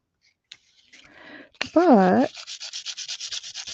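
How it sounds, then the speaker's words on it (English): Scratchy sandpaper sanding, starting with a few rubs, then a steady run of rhythmic back-and-forth strokes close up, with a brief voice-like tone in the middle. "I have this sandpaper, and I've been sanding these down to make them kind of grungy."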